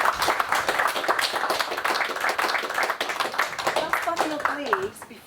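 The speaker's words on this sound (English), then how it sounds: "A round of applause for our guest." An audience at a hospitality fireside chat breaks into sustained, dense hand clapping that tapers toward the end, with a voice speaking over the final moments.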